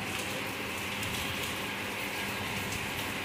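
A heavy downpour keeps falling on a windy day, steady, uniform hissing rain close by and unbroken throughout, with no one speaking.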